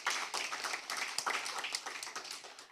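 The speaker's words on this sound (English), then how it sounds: "Please give them a round of applause." An audience at a debate competition claps steadily, a dense patter of many hands at moderate volume, continuing throughout without a break.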